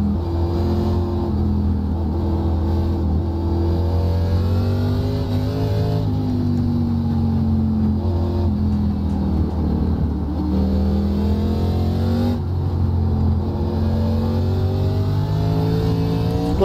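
ARCA Menards race car engine at Lime Rock Park in iRacing, a steady loud drone rising and falling in pitch as the throttle is worked through shifts, continuous with no voices.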